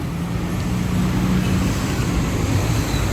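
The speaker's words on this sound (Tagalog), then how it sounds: "Ayan, super traffic dito." Dense highway traffic on a congested road, a steady broadband roar of cars and heavier vehicles with a low engine rumble, continuous and fairly close, with no voices.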